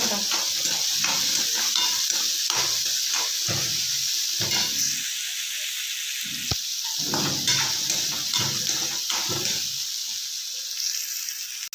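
Onions fry for chitranna in a pan, a steady sizzle and hiss running throughout while a spoon scrapes and stirs in repeated strokes, close and clear.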